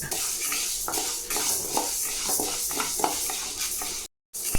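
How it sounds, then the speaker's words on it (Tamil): Dal dry-roasting in a pan over low flame for a horse gram spice powder, with continuous dry rustling and scraping as it is stirred, then a short silent break near the end. "நல்லா பருப்பு நல்லா வறுப்பட்டு சின்ன சைஸ் எல்லாம் ஆகிடும்"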